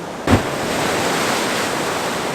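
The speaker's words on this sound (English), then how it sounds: "Absolutely perfect for catching these amazing big waves." Big ocean waves break on the shore in a loud, steady roar of surf with wind buffeting the microphone and a short thump near the start.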